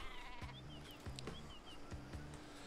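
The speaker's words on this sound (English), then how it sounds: "No, this is just a normal sheep." Cartoonish sheep bleats from the video game Worms Revolution, several short wavering cries repeating at a steady rhythm over a busy game soundtrack, fairly quiet and close.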